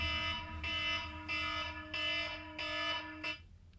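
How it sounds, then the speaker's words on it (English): Electronic alarm on a podcast set beeping in steady repeated bursts, a harmonic tone pulsing about every 0.6 seconds and loud up close before cutting off abruptly near the end. "Looks like we got a little alarm going off."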